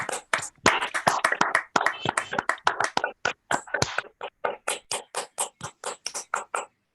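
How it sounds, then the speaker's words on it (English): Clapping comes through unmuted microphones in an online Toastmasters club meeting. It is sparse and uneven at first, then settles into a run of distinct individual claps with brief gaps of silence between them. "We can unmute our microphones and give a round of applause."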